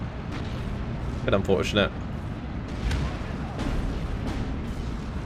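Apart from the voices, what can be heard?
rocket artillery strikes in the video game Steel Division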